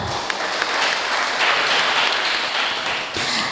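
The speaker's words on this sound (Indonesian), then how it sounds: "Tepuk tangan buat kita semua." An audience at a special news-coverage broadcast event claps steadily and densely throughout, loud and close, with a brief burst of sharper claps near the end and no voices over it.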